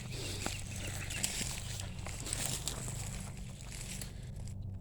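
Birds whistle outdoors in faint, scattered chirps above a constant, noisy outdoor background.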